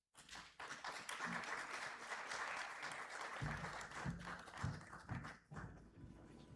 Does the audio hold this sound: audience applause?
yes